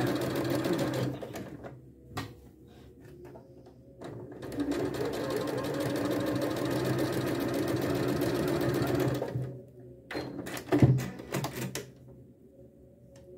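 A sewing machine stitches a seam in fabric for a lace mantilla veil, its needle whirring in short bursts before one long, steady run and a few brief stops and starts, close and fairly quiet.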